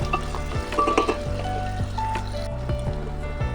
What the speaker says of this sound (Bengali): রসুনটা দিয়ে ভালো করে ভেজে নেব।